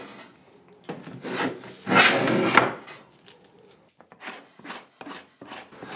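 Hand tools cut a rebate along the back edge of a wooden bookcase panel, giving close, irregular scraping and rasping strokes, with one louder, longer pass near the middle and lighter short strokes afterward.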